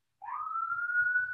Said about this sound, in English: thank you for the sirens in the background.